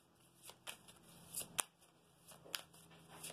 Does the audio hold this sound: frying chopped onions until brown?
no